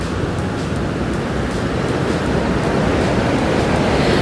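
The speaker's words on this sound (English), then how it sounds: "I'm just listening to these waves around me." Ocean waves wash steadily around the listener, a continuous broadband roar of surf that swells slightly louder toward the end, with some wind noise and no voices.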